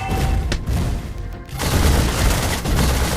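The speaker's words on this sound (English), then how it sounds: "Your team destroyed a turret." A turret being destroyed in the Mobile Legends mobile game, with a burst of booming, crashing explosion effects and gunfire-like clatter, loud and close, briefly dipping then resuming.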